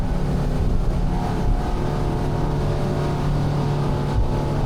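SAY 42 Sport speedboat turning at speed: a loud, continuous roaring engine and rushing water, close and steady throughout with a slight rise and fall.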